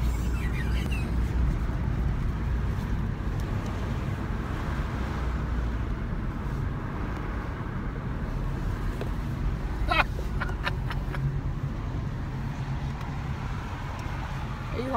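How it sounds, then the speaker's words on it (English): A car drives through town, giving a steady low road and engine rumble with wind noise throughout and a few faint clicks partway through. "Driving through town."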